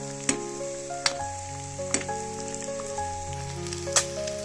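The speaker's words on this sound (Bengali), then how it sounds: "এই সাইডটা ভাজা করে নেবো প্রথমে, তারপর আমি ডিমগুলো আবার একবার উল্টে দেবো" Eggs fry in oil in a pan for egg masala, making a steady hiss with sharp spitting pops every second or so, close and alone, while faint sustained tones sit underneath.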